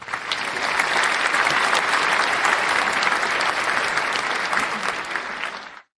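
An audience claps for Gold Star families and military members, dense, even applause that holds steady for several seconds before stopping abruptly.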